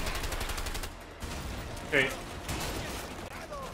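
Rapid gunfire rattles during a jungle fight into an enemy compound in the co-op video game A Way Out, bursts of shots under a voice that speaks briefly.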